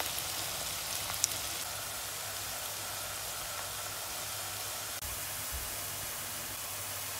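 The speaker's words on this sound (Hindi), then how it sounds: "तो प्याज को मैं लाइट गोल्डन होने तक फ्राई करूंगी।" Chopped onions fry in oil for chicken karahi, giving a steady, even sizzling hiss throughout with no talking and only a faint tap or two.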